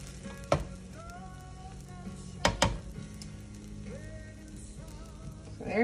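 A pancake cooks in a pan with a soft, steady sizzle, broken by a few sharp clacks and bumps of the pan, alongside faint tonal sounds that may be a voice, with no clear talking.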